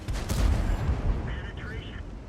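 A World of Tanks tank cannon fires as a heavy, booming shot, followed by a rumbling battle tail, with a voice talking over it.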